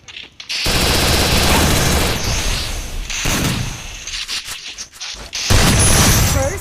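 Shotgun fire in the video game Free Fire: loud, dense bursts of shots and booms follow one another rapidly, with brief gaps, close and dominant throughout.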